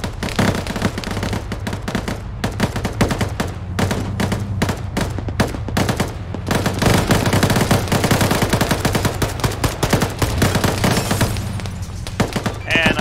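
Dense rapid automatic gunfire in a squad-based shooter video game, loud, sustained bursts rattling almost continuously over about thirteen seconds with brief gaps.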